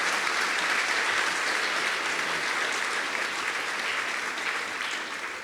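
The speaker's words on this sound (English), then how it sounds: "could we all please give a great round of applause for our panelists?" Steady round of audience applause for a panel of experts at a workforce event, dense clapping at moderate level that tapers off slightly at the end, with no talking over it.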